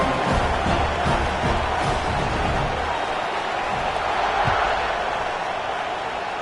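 A stadium crowd cheers before kickoff in the College Football 26 video game, Georgia versus UCLA, a broad steady roar filling the whole stretch with faint commentary beneath.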